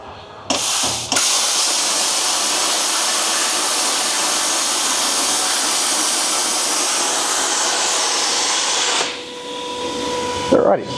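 A CNC plasma cutter with a torch height controller makes a straight 100 mm cut, producing a loud steady hissing roar that starts abruptly after a short probe click, holds for about eight seconds, then drops away.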